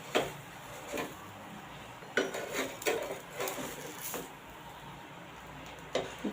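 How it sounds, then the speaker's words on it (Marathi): A fasting (farali) masala dosa is turned over on a hot pan over medium flame, giving a few sharp scraping and clinking spatula taps spread across a quiet background, with no talk. "मी डोसेला पलटी मारत आहे"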